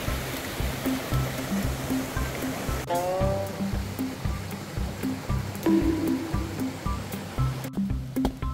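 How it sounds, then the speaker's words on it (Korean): Steady rushing water from a waterfall in a moss-covered forest fills the clip, with a few rhythmic low thumps and brief noises on top, fairly close and continuous. "폭포다, 폭포."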